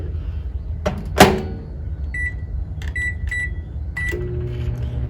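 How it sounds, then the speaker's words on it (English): A microwave oven cooking a mug of chow mein with vegetables hums steadily, with a clunk of the door or start button followed by several short electronic beeps. "Now we're going to pop this back into the microwave for 2 minutes so that the veggies can cook through."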